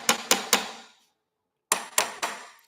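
A hammer taps metal wheels into place: two quick sets of three sharp, ringing strikes, close and evenly spaced, separated by a brief pause of silence.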